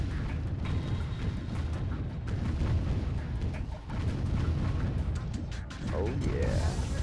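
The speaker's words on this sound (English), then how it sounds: "And we're gonna be able to bombard that." Artillery shells pound a target in the Warzone 2100 strategy game, a dense rumbling barrage of blasts and crashes that runs nearly continuously at steady loudness, with brief dips between impacts.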